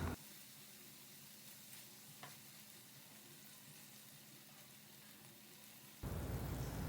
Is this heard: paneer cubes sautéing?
yes